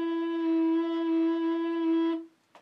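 A recorder holds one low E as a whole note: a single clean, steady tone lasting about two seconds that stops cleanly, followed by a brief faint sound.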